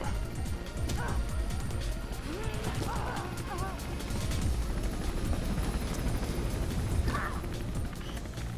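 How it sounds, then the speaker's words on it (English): A helicopter in the video game Mirror's Edge thrums with a dense low rotor chop beneath crashes and mechanical clatter, loud and continuous throughout. "And of course, that's chopper."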